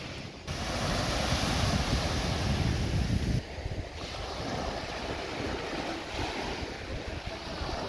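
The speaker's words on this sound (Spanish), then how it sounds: "así tenemos ahora el agua. Se ha puesto ahora un poquito picadilla." Choppy sea breaks on a beach at Nerja, waves surging and hissing in a loud continuous wash with wind buffeting the microphone, while the surf swells and eases partway through.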